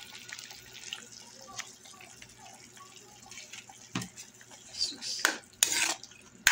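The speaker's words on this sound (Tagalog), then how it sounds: "Lagyan ko na rin ng patatas." Potatoes being added to a pork dish in a pan, quiet sizzling with wet drips and clinks, then louder scraping and clattering bursts of utensils against the pan toward the end.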